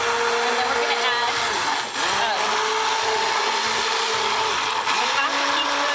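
A blender runs steadily while lemon juice is beaten into homemade avocado-oil mayonnaise, a loud, close, continuous whir with pitch shifts and one brief dip.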